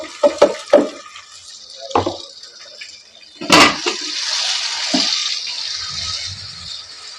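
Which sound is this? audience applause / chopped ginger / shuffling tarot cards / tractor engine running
chopped ginger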